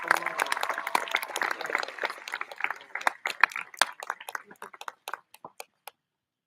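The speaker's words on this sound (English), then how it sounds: "Let's give our ASB students a big round of applause." Applause for ASB students at an intermediate school commencement: a dense crowd claps strongly, then it thins to scattered individual claps that die away into silence.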